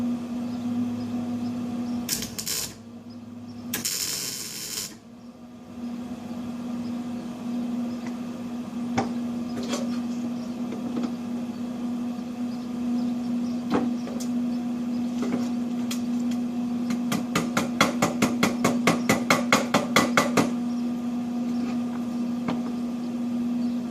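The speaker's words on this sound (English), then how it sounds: "I'm going to set up my welder, and I'm going to weld like this one" A welder tack welds steel parts for a Wheel Horse 1056 garden tractor puller project, a steady electrical hum with a few bursts of harsh crackling early on and a quick rapid series of sharp ticks later, close and without speech.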